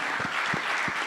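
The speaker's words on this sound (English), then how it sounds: "Can we have a huge round of applause for everyone in the panel?" Steady applause from a crowd, dense continuous clapping filling the whole moment at moderate loudness.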